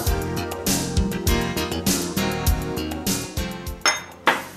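A mixing bowl is handled as maida flour goes in, giving bright clinks and clatters of kitchenware that repeat steadily, with a few sharper knocks near the end and no talking.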